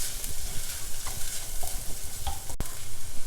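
Raw mango pieces tossed with spices sizzle in a pan while being stirred, close scraping and rustling over a steady frying hiss, with one sharp clack of a spatula near the end.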